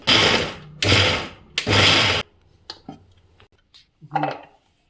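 A mixer grinder pulses sweet corn in three loud, roughly one-second bursts, followed by quieter clinks and a short rattle of the jar.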